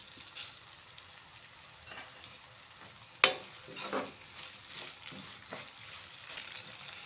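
Dried red chillies and sesame seeds fry and crackle in hot oil for a chutney, a steady close sizzle broken by a sharp clack of stirring and a few softer scrapes.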